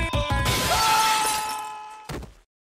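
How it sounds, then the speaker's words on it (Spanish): Glass shatters in an animated scene from Five Nights at Freddy's Security Breach: a loud crash bursts into a long tinkling spray of shards, then a second smaller crack and falling bits before silence. "El cristal debería romperse si comienzo a rapear a frecuencias muy altas"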